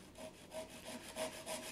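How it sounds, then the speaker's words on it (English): A small flush cut saw trims protruding wooden dowels flush on a woodworking bench, producing about five steady back-and-forth rasping strokes, close and clear with no talk. "I just then use a little flush cut saw to saw those dowels off."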